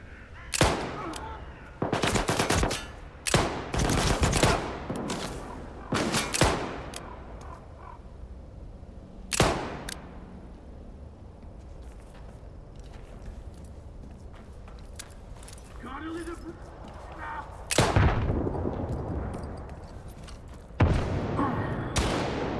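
Armed bandits in STALKER 2 fire in bursts of loud gunshots and short automatic volleys, spaced across a tense stretch with footsteps and quieter gaps between the exchanges.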